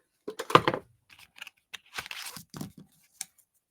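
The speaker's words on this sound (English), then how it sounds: "Let me cut this pack open here." A scrapbook sticker pack being cut open with scissors, a few close snips and crinkly plastic rustles in short bursts separated by quiet gaps.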